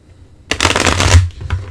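Oracle cards are shuffled by hand in a burst of rapid riffling and flicking, close and crisp, starting after a brief quiet pause and slowing near the end.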